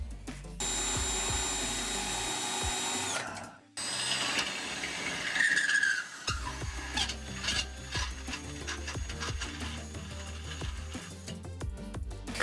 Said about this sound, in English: I need to drill a hole on the passenger side.